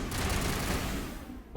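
A loud sniper rifle shot in Mass Effect, a roaring blast that rolls on and fades out, then a short new burst at the end.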